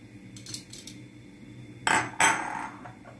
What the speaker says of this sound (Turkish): Tabii yumurtamızı iyicene bir çırpacağız önce.